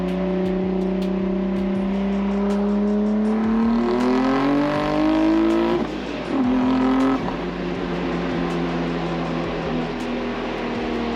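A 650 WHP Nissan 300ZX street car accelerates hard, its engine droning loud and close from inside the car as the pitch climbs steadily, dips briefly at a gear change, then pulls on.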